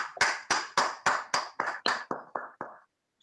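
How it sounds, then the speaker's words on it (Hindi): Applause welcoming a guest speaker to an online webinar: about ten sharp, evenly spaced claps at a steady rhythm, close and fairly loud, then a short silence. "गुरुदेव अवधेश त्रिवेदी सर, आपकी जोरदार तालियों के साथ"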